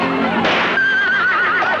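A horse lets out a loud, close whinny that rises into a long, wavering neigh lasting nearly two seconds, heard clearly on its own.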